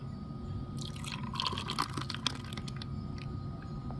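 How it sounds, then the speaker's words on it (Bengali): Thick dahi lassi poured into a glass, a close, soft gurgling and dripping flow that swells for a couple of seconds in the middle before fading, with no talk. "লসিটা আমি এবার ঢেলে নিচ্ছি"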